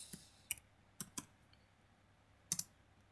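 Sparse keystrokes on a computer keyboard while a folder name is typed, a few sharp clicks in small pairs separated by pauses, close and clear with no talking.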